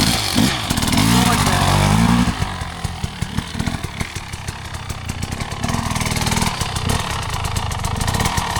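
An enduro motorcycle ridden on grass at a women's skills day, engine revving then settling into a low, uneven putter with light throttle, close and fairly loud throughout.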